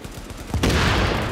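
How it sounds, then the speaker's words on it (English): Sniper gunfire in The Division erupts in a sudden loud burst about halfway through, followed by a sustained roar of shooting and echoing battle noise, with no talking. "Shit, sniper yang di kiri nembak juga lah."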